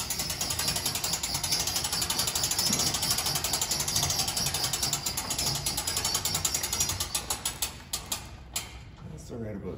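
Crank mechanism raising the roof of a 2022 Clipper 108ST tent trailer: rapid, steady ratcheting clicks up close, slowing into separate clicks toward the end.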